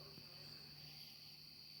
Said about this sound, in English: I can hear crickets.